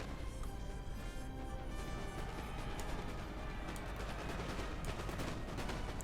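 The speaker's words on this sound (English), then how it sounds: "These two units of Russian Musketeers taking turns, putting volleys into these Prussian Musketeers." Musket volleys crackle between Russian and Prussian musketeers in Napoleon: Total War, a dense, continuous rattle of distant gunfire over a loud battlefield roar with no gaps.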